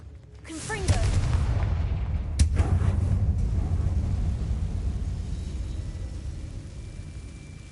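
A Confringo spell explosion in Hogwarts Legacy on PS5, a sudden blast followed by a second boom and a long, loud rumbling roar that slowly fades.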